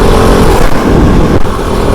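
A Kove 450 Rally motorcycle chugs along in fourth gear on pea gravel in a desert wash. The engine is a loud, close, continuous rumble mixed with wind noise, with a brief dip partway through.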